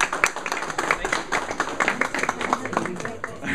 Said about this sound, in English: I have to give Charlie a round of applause